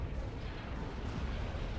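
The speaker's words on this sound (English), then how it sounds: "Let's toss a high velocity cannon his way as well." A high velocity cannon fires in a space strategy video game, a dense, steady rumbling barrage of low booms and bursts at moderate level with no voices.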